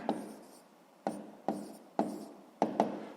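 Pen or pencil scratching across paper while a sixth-grade fraction problem is worked out by hand, a few distinct strokes and taps in quick bursts with soft rubbing between, close and fairly quiet, no talking.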